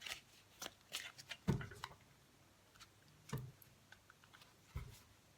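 Cosmic Tarot cards are shuffled by hand in quiet, irregular bursts of crisp riffling and soft slaps, several distinct shuffles spaced over a few seconds, close and fairly faint.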